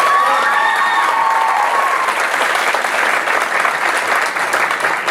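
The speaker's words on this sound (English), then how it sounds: "let's give him a round of applause." Loud, steady applause from a gala audience fills the whole stretch, dense and continuous, with a few brief tonal streaks near the start and no talk over it.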